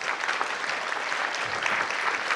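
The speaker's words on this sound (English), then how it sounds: "Maybe we should give all of them a round of applause." Audience at a conference panel breaks into steady, dense clapping, a continuous close wash of many hands for a couple of seconds.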